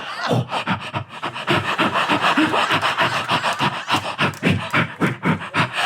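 A voice imitates heavy breathing down a telephone, a fast, rhythmic series of loud, raspy panting breaths repeated steadily throughout, close and harsh.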